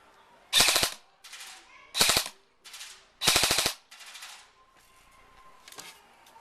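Airsoft gun powered by a 9.6 volt battery firing in full auto: three rapid, rattling bursts of about half a second each, loud and close, with softer mechanical clicks and handling noise between them.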